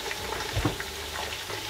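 Chopped white onion and bell pepper fry in a pan with steady, soft sizzling and bubbling for a short moment, with no talking.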